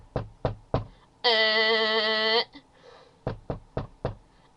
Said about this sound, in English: knocking noises, so it went